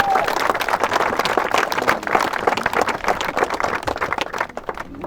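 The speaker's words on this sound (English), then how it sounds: "let's give John Knox a warm round of applause" A gathered crowd claps for a guest, a busy run of hand claps that holds strong and then thins toward the end, with some voices mixed in.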